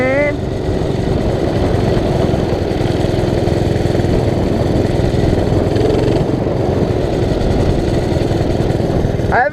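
A small automatic-clutch mini bike engine idles close by, a steady buzzing putter with rapid even firing pulses that runs unbroken throughout at a constant level.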